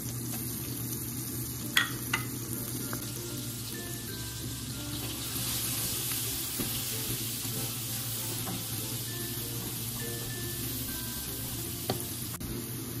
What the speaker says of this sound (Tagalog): Tapos ngayon lagay po natin yung ating bawang.